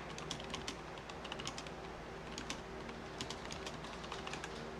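A password is tapped out on a computer keyboard in quick, uneven bursts of light key clicks, faint and close, with a low room hum underneath and no voices.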